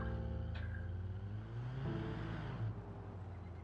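Aerial Scout car engine from a BeamNG.drive mod, idling with a steady low hum and mild revving swells, moderately loud and continuous, no talk.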